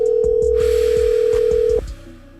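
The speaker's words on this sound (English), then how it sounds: "Let me call him real quick." A telephone produces a steady, loud dial tone, then a rapid series of short dialing beeps as a number is entered, and the tone cuts off abruptly, leaving quieter room noise.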